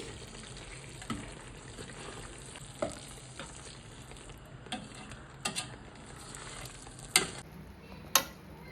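Special masala being stirred into frying Dindigul thalappakatti chicken biryani, a soft continuous sizzle with a few sharp clicks and taps of the spoon against the pan, close and fairly quiet, no talking.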